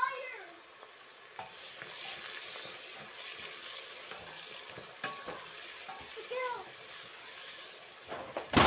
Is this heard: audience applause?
no